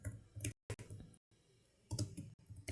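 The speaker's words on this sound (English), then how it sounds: "Can you hear me typing now?" Faint, irregular computer keyboard typing while writing SQL code, bursts of soft clicks separated by short pauses.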